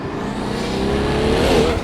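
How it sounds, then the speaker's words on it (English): A powerful turbocharged performance car engine with the roof off roars steadily and loudly, rumbling deep with a rising whine and turbo hiss as it builds toward the end. "It's much deeper, more echoey, more rumbly, and there's also a lot of turbo noise."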